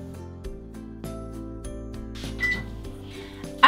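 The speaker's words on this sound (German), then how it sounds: "Deckel drauf und ab in die Mikrowelle" A kitchen microwave oven hums steadily while melting broken chocolate and butter in a covered bowl, a low continuous drone with faint clicks and rattles and a sharp clatter at the very end.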